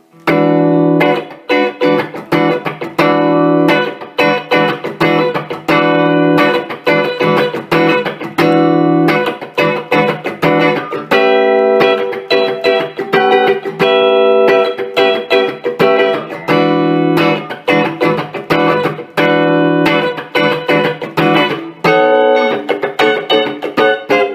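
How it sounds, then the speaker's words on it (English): Electric guitar chords strummed on a Les Paul with P90 pickups, middle pickup position, through a Quilter MicroPro Mach 2 amp, one chord after another with short gaps, ringing out with a slightly driven, reverberant tone. "Here's more chords, again middle position on the Les Paul."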